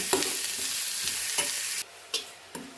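Onion fries in a pan with a steady sizzle while a utensil stirs and scrapes it in quick strokes. The hiss drops off near the end, leaving a few separate scrapes.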